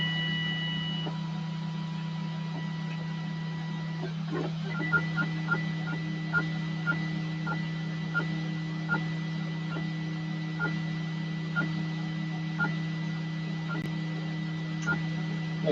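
An E3D ToolChanger 3D printer runs with a steady mechanical hum and stepper whine, evenly spaced ticks and beeps repeating about twice a second through most of the run, no talk.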